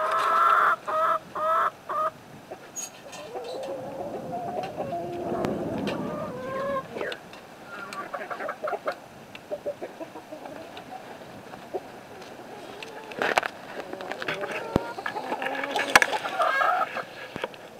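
A rooster newly introduced to a flock clucks repeatedly in short bursts near a feeder, with other fowl sounds and rustling nearby, moderately close and fairly quiet.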